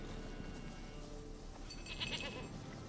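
A goat in The Witcher 3 video game bleats, a brief wavering call rising late over a steady bed of outdoor game ambience.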